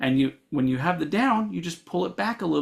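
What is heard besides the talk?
No everyday noise stands out behind the speech.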